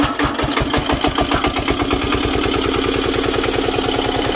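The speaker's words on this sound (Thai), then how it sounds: "เทสปั๊มน้ำหน่อยเร่งเครื่องหน่อย" An old Japanese welder-generator engine revs steadily up close, giving a loud, rapid, even chugging pulse throughout.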